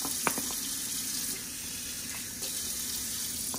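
Cold water running steadily from a kitchen tap while pie crust dough is being made, a soft continuous stream with no talking over it.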